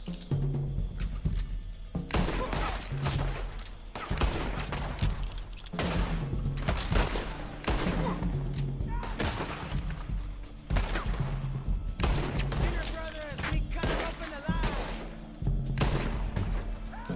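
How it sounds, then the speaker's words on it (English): Gunfire in Red Dead Redemption 2, a rapid string of sharp shots and thumps repeating across the whole stretch, loud and dense with only short gaps. "Headshots."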